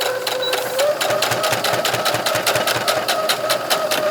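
A sewing machine back stitches near a neck strap attachment on an apron, running in a rapid, even needle rhythm that is loud and close, with no talk.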